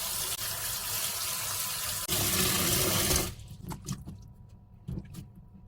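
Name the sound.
pouring cold water over garlic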